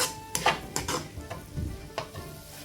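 Mixed vegetables sauté in a pan for a North Indian style curry, a fairly quiet sizzle interrupted by a few scraping stirs and light utensil knocks.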